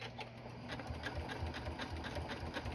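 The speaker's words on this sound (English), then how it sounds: "I'm going to back stitch on it and cut my thread" A sewing machine runs steadily while stitching a small fabric Easter bag, a close, continuous rapid mechanical whir with an even stitching rhythm throughout.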